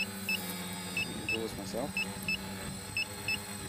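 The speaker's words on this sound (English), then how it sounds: "Beeping in here. Just going to turn off this thing saying it's done more than 10 minutes." A short electronic beep, a flight timer warning from an FPV drone, repeats at a steady pace, high and thin, over a low motor hum, while someone briefly speaks.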